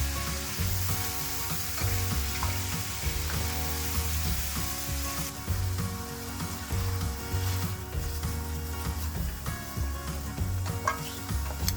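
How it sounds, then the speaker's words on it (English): Sliced mushrooms fry in a pan with a steady, close sizzle, and a utensil scrapes and stirs them in a loose repeating rhythm throughout, with no talking. "One pound sliced mushrooms, this is optional. Cook for 3 to 5 minutes, stirring occasionally."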